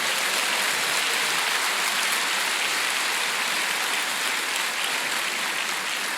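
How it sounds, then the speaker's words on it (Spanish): A church congregation claps loudly and continuously, a thick, rain-like roar of many hands filling the room at a constant level with no speech over it. "Dele un aplauso bien grande al Señor."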